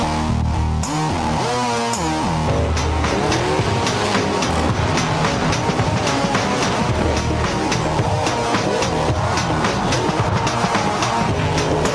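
Monster trucks race in a video game, loud engines roaring and revving continuously with tire squeals and skids throughout, no voices over the action.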